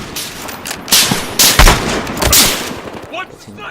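Gunfire and machine-gun bursts from the Battlefield video game: loud, dense rattling volleys and sharp shots in quick clusters, fading into quieter scattered reports toward the end.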